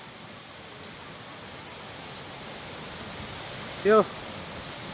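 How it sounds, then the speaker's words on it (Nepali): Jalbire waterfall in Chitwan, a broad steady rush of falling water heard from a distance, constant and even throughout, with one brief spoken word near the end. "लामो झरना जलबिरे इच्छा कामना चितवनमा पर्दछ"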